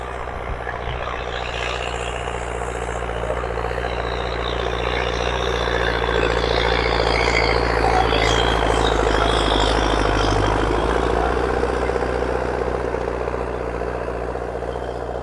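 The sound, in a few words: tractor pulling a cultivator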